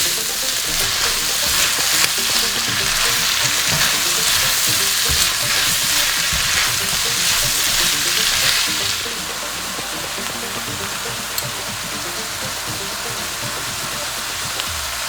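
Red onions frying in a pan, a dense, loud, continuous sizzle and crackle with stirring texture that drops to a softer, even hiss partway through.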